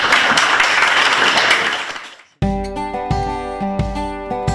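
Warm applause from an audience thanking an engineer after a talk on satellite InSAR monitoring, a thick, steady clapping that swells and then fades out before music begins playing.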